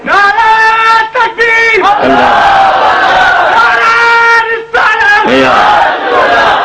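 A large crowd at a religious gathering chanting a devotional slogan. Loud massed voices ring out in long sustained phrases, separated by brief pauses.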